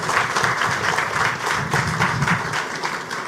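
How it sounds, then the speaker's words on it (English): A round of applause at a trade show opening ceremony, with a crowd clapping steadily at moderate volume and distinct claps audible within the dense patter. "We need a round of applause for 18 years."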